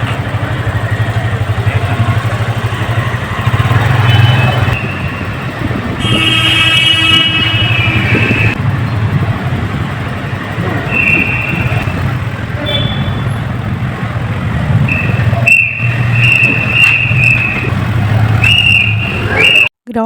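Vehicles move through a mall's underground parking area, engines rumbling steadily close by with echoing pass-bys, a few short toots near the end and speech in the background.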